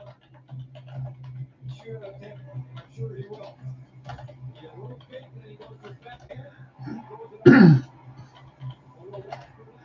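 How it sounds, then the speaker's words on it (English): A single sharp cough rings out near the end, loud and close, after quiet murmuring and a low steady hum, during an NHL hockey play-by-play commentary. "I'll make sure I don't cough as much during the play-by-play."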